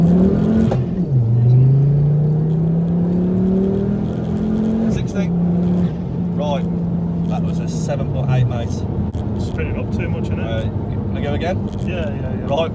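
A 280bhp Ford Focus ST3 accelerates hard on a 0-60 run, its engine note rising loudly and shifting through gears, heard from inside the car with people talking.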